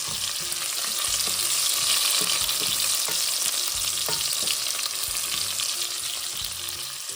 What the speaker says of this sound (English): Let this saute for a little bit.